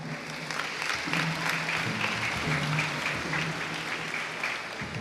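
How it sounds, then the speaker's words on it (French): Steady applause from a congregation at a Sunday worship and praise service fills the room for several seconds, a continuous mid-level patter of many clapping hands. "nous vous demandons un tonnerre d'applaudissements pour Cadet Christopher"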